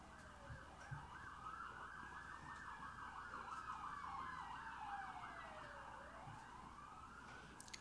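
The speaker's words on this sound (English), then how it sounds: "we're passively sitting and listening to the siren of that ambulance" An ambulance siren passes outside, its wailing tone sweeping up and down steadily for several seconds, moderately distant and heard over faint traffic rumble.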